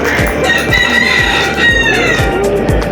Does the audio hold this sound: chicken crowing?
yes